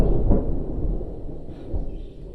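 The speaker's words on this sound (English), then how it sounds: "Thunder." Thunder rumbles low and heavy outdoors on a sunny day, a deep rolling boom that swells near the start and lingers, with no talking.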